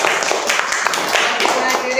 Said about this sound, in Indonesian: Sekali lagi tepuk tangan untuk kita bersama.